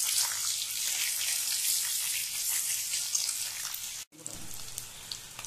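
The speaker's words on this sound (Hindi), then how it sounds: "आप देख सकते हैं एक साइड से अपना अंडा जो है फ्राई होना शुरू कर दिया है" Eggs frying in a pan for egg korma, browning as they are turned with a ladle: a loud, continuous close hiss that cuts off abruptly for a moment, then resumes.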